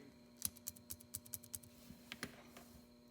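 A run of about a dozen sharp, light clicks from a Pilot S3 mechanical pencil in quick succession, fairly close, with a short pause and a few softer clicks after.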